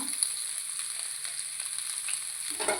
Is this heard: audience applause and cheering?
no